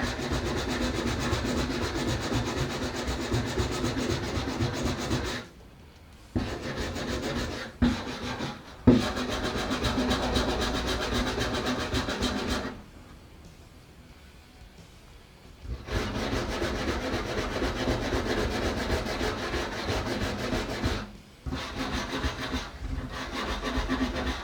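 Steady, harsh scraping of corrosion off a floor surface, close and loud, runs in long continuous stretches of rhythmic rubbing strokes broken by a few short pauses and one longer quiet gap.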